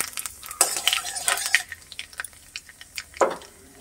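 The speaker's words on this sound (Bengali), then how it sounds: "কালো জিরে ফোড়ন" Nigella seeds dropped into hot mustard oil, bursts of bright crackling sizzle with a few clinks of a spoon against the pan, close and moderately loud, without talk.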